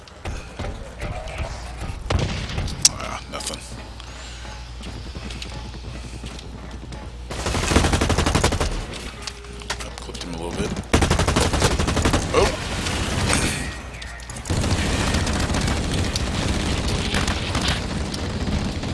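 Video game shooter gunfire, dense bursts of rapid shots and booming impacts that swell and cut off in loud stretches, with a voice shouting now and then.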